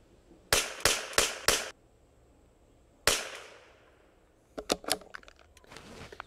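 A Springfield 2020 rimfire rifle fires four quick sharp shots in a row at a range, then a single louder shot, followed by a cluster of fainter clicks and metallic handling sounds.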